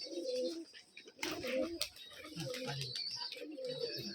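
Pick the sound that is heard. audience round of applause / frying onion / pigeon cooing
pigeon cooing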